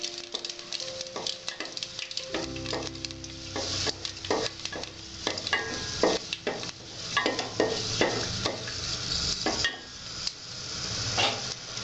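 Panch phoron spices fry in a pan for a vegetarian dalia khichuri, crackling and popping under a steady sizzle. Frequent sharp ticks and clinks of a utensil against the pan come and go throughout.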